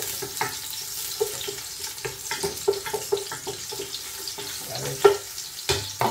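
Garlic frying in a pan for chicken pork adobo, a low crackling sizzle with light clicks and stirring knocks, moderately close, with no voices.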